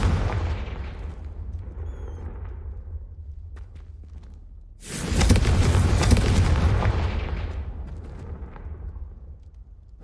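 A Confringo blasting curse spell in Hogwarts Legacy, a low booming rumble that swells into a loud, sustained fiery blast midway and slowly dies away, with no voices.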